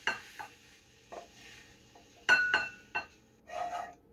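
Cooked pork sausage being scraped and spooned from a pan into a bowl: a few sharp metallic clinks and scrapes of utensil on cookware, spaced out over a few seconds, close and fairly loud against a quiet background.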